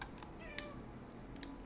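A cat meows in the video game Stray, a couple of short, faint mewing calls over a steady background hum with no one talking.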